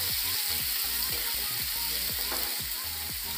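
Chopped onions being mixed into a hot pan, giving a constant bright sizzle with repeated soft low thumps and scrapes from stirring at a quick, even pace, heard close with no voices.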